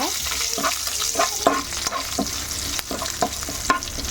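Small pieces of cut dried red chillies fry in hot oil with curry leaves, giving a constant close sizzle broken by repeated scraping stirs of a spoon against the pan.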